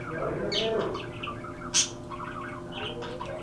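Pet parrots indoors give short chirps and squawks, including one sharp, bright call, against a low background murmur.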